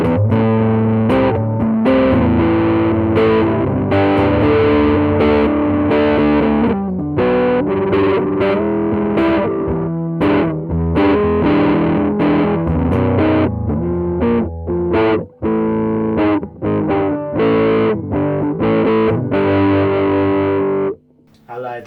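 A custom-built electric guitar rebuilt from an early homemade instrument is strummed through a distorted amp with the tone knob fully rolled off. It gives a dense, dark, woolly wash of chords that rings continuously and loudly, with brief gaps near the end.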